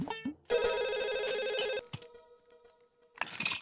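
A telephone rings loudly and close by indoors at night, a long electronic ring burst followed by shorter tones and a second ring starting near the end, with no talk over it.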